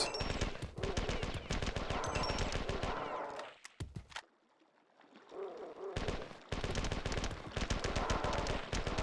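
Rapid, sustained automatic gunfire from a weapon in the video game Marathon 2: Durandal, loud and continuous in long bursts that break off for a few seconds of near silence before resuming.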